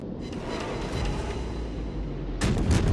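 Heavy naval guns firing armour-piercing shells in a warship battle game, a sustained low rumble of distant fire building into a loud, sharp boom near the end.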